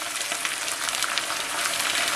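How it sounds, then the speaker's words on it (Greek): Meat frying in a pan, a dense, loud, continuous sizzle with crackling spits, close to the pan and alone without voices. "Αφήστε το κρέας να τηγανιστεί καλά."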